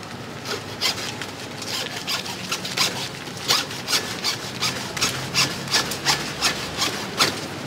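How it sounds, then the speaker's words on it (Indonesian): A hand saw rasps through a long mulberry branch in quick, regular back-and-forth strokes, close and steady, getting faster toward the end. "Saya akan gergaji."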